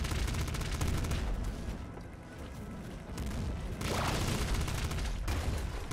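Dense, continuous gunfire and explosive bursts from the video game Nuclear Throne, loud and close, with a brief lull in the middle before the barrage resumes.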